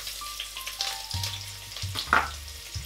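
Onion dropped into hot oil for an okra dish, a close, lively fry with crackling sizzle and a brief louder spatter, alongside low tonal hums from the kitchen.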